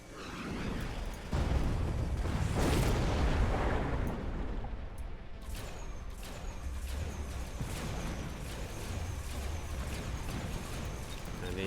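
Battle explosions in the Mechabellum strategy game, a dense continuous roar of blasts and rumbling impacts layered with crackling fire, loud and sustained throughout.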